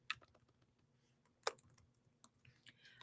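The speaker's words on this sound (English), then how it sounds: "I'm typing it too, but I tend to talk out loud when I type" Typing on a computer keyboard while entering an email address, quiet and fairly close, with scattered light key clicks in uneven bursts and one or two louder taps.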